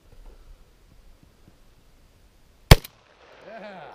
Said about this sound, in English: Shoot the other half of the watermelon.